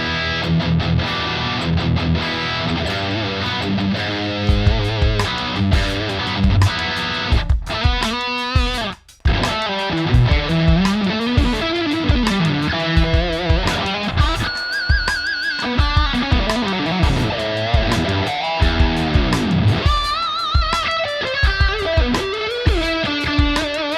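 Heavily distorted electric guitar through the Chunky Prog preset of an amp plugin, playing loud, dense chugging riffs and sustained chords, with a brief cut to silence midway before the playing resumes; no talking.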